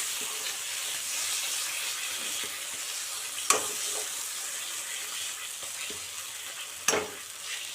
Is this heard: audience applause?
no